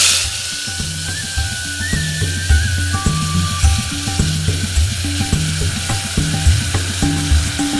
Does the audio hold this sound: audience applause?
no